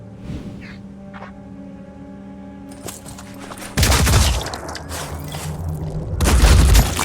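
Enemy gunfire in the Phoenix Point video game: a loud burst of several overlapping shots and booms erupts midway through a low droning background, followed by a second heavy volley near the end.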